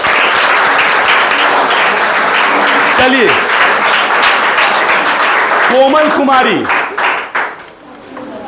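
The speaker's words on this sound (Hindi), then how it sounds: "ताली" A room of students bursts into loud, sustained clapping during a school prize distribution, the applause thick and steady while a teacher's voice calls out over it, tapering off near the end.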